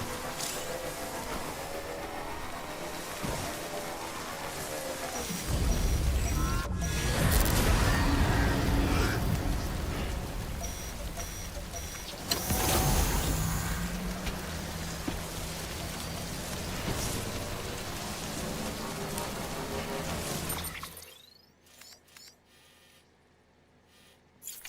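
Timefall rain from the video game Death Stranding pours steadily, swelling into heavy bursts of drumming downpour with a sharp crack, then cutting off abruptly into near silence near the end.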